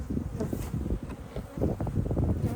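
Honey bees buzz around an open hive during an October inspection, a close, continuous low drone with shifting pulses as individual bees pass near, alone without talk.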